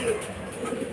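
A racing pigeon coos at its loft just after landing from a derby race, a soft, steady low murmur close by with faint background noise.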